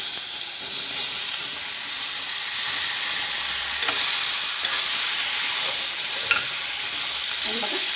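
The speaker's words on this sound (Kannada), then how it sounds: "ಈಗ ಇವಾಗ ನಾನು ಈ ಬೂದುಗುಂಬಳಕಾಯಿ ಹೋಳುಗಳನ್ನ ಹೆಚ್ಚಿಟ್ಕೊಂಡಿರೋದನ್ನು ಇವಾಗ ಇದಕ್ಕೆ ಹಾಕ್ತಾ ಇದ್ದೀನಿ" Ash gourd pieces dropped into a hot pan of tempering with hing, giving a steady close sizzle and frying hiss with soft stirring scrapes throughout, no talking.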